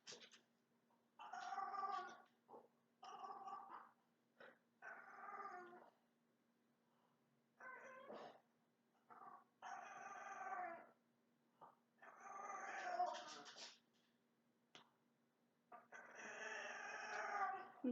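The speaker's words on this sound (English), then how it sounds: "you can hear the noises of my dog. He sees people outside and is whining for them." Dog whining and whimpering indoors at people outside, a series of high, nasal cries in separate bursts of one to two seconds with short quiet gaps between them, fairly close.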